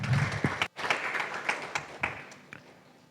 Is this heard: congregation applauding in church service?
yes